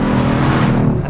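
A 2014 Mustang GT with stage 2 modifications roars loudly from close range as the engine revs hard on a downshift into a big right-hand turn, a dense continuous growl that eases off slightly at the very end.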